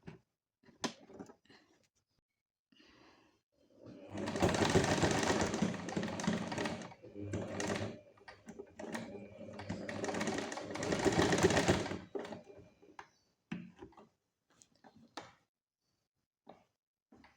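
A sewing machine stitching the side slit of a kurti, running in two sustained bursts of rapid mechanical chatter separated by a short pause, with quieter handling clicks around them and no speech over the runs.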